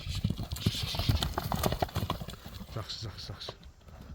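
A horse gallops outdoors in Nookat, its hooves drumming in a quick, steady clip-clop that stays close and fairly loud, with voices speaking faintly underneath.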